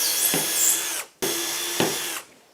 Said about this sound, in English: I might as well drill the holes here